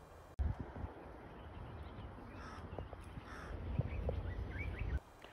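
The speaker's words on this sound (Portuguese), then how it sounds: "consigo ver do corvo, que ele está aí fazendo a sua vocalização" A crow caws a few times at a distance against soft outdoor wind and rustling, the calls faint and spread out over several seconds.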